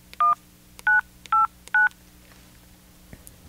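Four short telephone keypad DTMF tones entering a voicemail password, each a clear beep spaced about half a second apart over a faint steady hum, with no voice.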